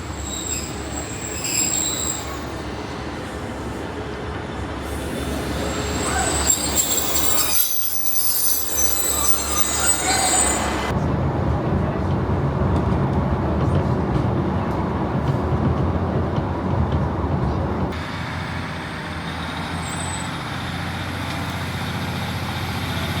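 A Northern train arrives on the Mid Cheshire Line at Mobberley station, its wheels squealing sharply against the rails amid a loud rumble of railcars rolling past close by, then the noise eases as it slows.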